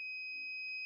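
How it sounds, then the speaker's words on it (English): A non-contact voltage tester held near a live household receptacle gives a steady, clear high-pitched electronic beep lasting nearly a second, close and alone, with a brief rustle at the end. "So you can hear it beeped and actually lit up bright red"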